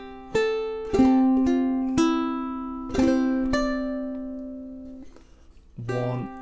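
A ukulele plays bar 6 of St. Anne's Reel, an Irish folk tune, with a handful of clear plucked notes ringing out alone and decaying slowly, then a short final strum.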